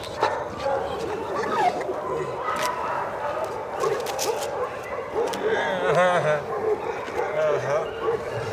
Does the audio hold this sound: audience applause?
no